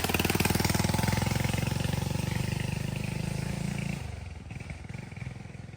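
A motorcycle engine putters past on a farm road among santol and dragonfruit plantings, a loud, rapid, chugging beat up close that drops away and grows quieter after a few seconds as it moves off.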